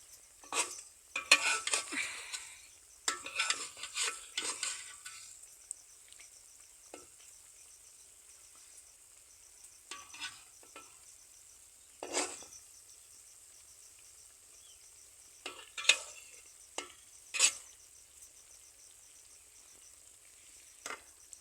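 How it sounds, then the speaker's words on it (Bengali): Semolina pitha crisping in hot oil in a wok, with soft intermittent sizzling and scraping bursts, busier in the first few seconds then sparse stirring clinks and sizzles later, alone without talk. "আমি সবগুলো তো মশমশা করে বাইজে নিতেছি"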